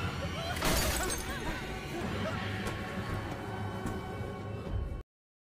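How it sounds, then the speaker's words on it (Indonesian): Glass of a car window shatters in a sharp, loud crash early on, followed by a dense jumble of scattered debris and dramatic film soundtrack noise in an Indian movie scene. "Pria itu kemudian memecahkan kaca mobil Hari dan pergi begitu saja"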